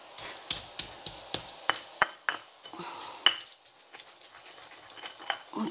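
A hand-held pestle pounds and grinds spices in a mortar, striking in a steady rhythm of sharp knocks at first, then shifting to softer scraping and irregular taps, close and moderately loud.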